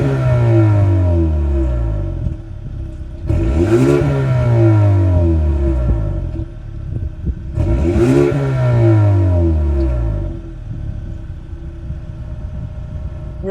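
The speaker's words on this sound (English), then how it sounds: "we have chrome tip, quad tip exhaust. So let's see how this baby sounds" A 2025 Hyundai Sonata N-Line with a 2.5-liter turbocharged inline four and chrome quad-tip exhaust revving loudly and close, three sharp throttle blips that climb and settle back to a burbling idle.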